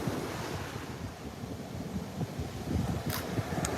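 Ocean waves breaking on the shore at a beach, a steady wash of surf heard from a distance under gusting wind buffeting the microphone, with no talk.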